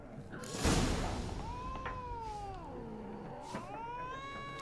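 A cat meows in The Witcher 3, several drawn-out, wavering cries close by, the longest sliding up and down in pitch, with a sharp rustle or hiss just before them.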